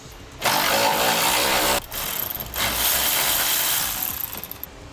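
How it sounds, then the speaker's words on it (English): A 10mm socket on an extension, likely driven by a power tool, removes the factory bump stop bolt on the axle of a 2014 Chevrolet truck. Loud, broadband buzzing comes in two bursts separated by a short pause, with no speech. "Now we use a 10mm socket on an extension to remove our factory bump stop."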